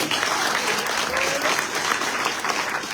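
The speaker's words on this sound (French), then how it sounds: "Vous pouvez l'applaudir." Sustained applause from an audience at a French-speaking political gathering, dense and steady clapping filling the whole stretch at a fairly close, even level.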